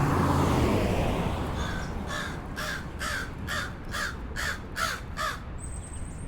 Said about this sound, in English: There's the crow that's making all that noise.